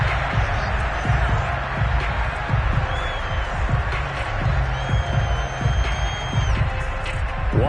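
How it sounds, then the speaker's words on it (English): A football stadium crowd at a Giants vs Eagles game shouts and cheers steadily while watching a replay, a dense roar of many voices with a commentator talking over it. "Plenty of shouts from this crowd as they watch the replay"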